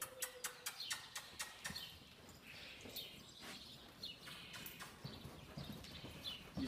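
A horse lopes in a flexion rig, its hoofbeats landing in a quick, even clip-clop rhythm up close, with birds chirping faintly in the background.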